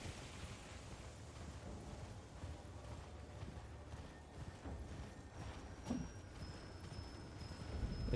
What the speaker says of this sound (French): Je peux monter sur mon cheval.